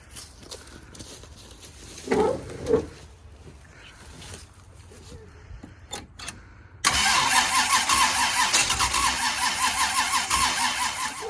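Old Oldsmobile Cutlass engine attempting its first start in years, with brief cranking bursts near the start, then a loud, steady engine roar catching and running continuously to the end.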